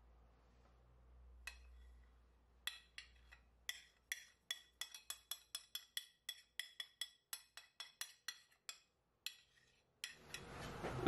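A spoon clinks rapidly against a bowl while spices are stirred together for a roast chicken marinade, a fast run of bright close taps ending in a rustling scrape, with no talking.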